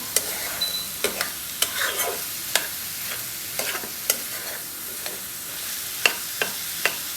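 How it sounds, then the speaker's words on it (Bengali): Snake gourd and egg with a little spice frying together in a pan, a low sizzle under repeated sharp spatula taps and scrapes at an uneven rhythm. "এটা 2-3 মিনিটের মতো ভাজতে হবে। ভাজতে থাকি"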